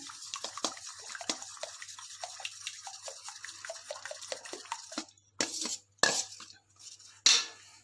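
A spoon stirs and scrapes potato raita in a bowl, a quick run of soft clinks and swishes that breaks into a few louder separate knocks near the end, no talking.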